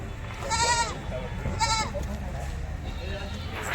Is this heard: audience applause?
no